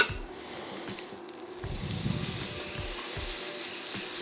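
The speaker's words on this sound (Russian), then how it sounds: "И я начну слегка прогревать в масле эту самую натертую свеклу." Grated beetroot warms in melted butter in a frying pan for beetroot jam, a faint, soft sizzle with a few quiet squishy stirring sounds close by.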